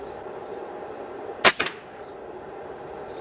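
A single air rifle shot firing a JSB diabolo pellet at a 30-metre target: one sharp crack followed by a brief echo, then quiet ambience.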